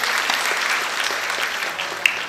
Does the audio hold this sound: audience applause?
yes